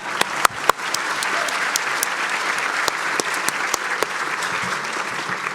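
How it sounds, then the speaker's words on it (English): A graduation audience at a medical school hooding ceremony applauds steadily, dense clapping from a large crowd filling the hall at a constant level, with a few sharper individual claps standing out near the start. "and we can clap again."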